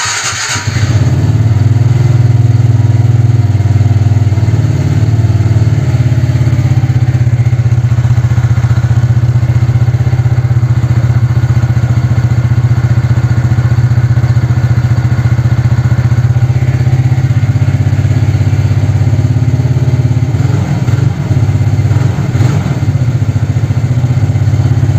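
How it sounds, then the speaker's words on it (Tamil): A TVS Ntorq 125 Race Edition scooter starts with a quick whirr and settles into a steady, close, loud idle that runs on alone without talk. "நம்ம இன்ஜின் சவுண்டு கூட கேட்டுடலாம்."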